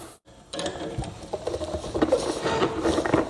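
A light bolt on a Honda snowblower is turned out by hand, producing small close metallic ticks, scrapes and rattles after a brief silent gap.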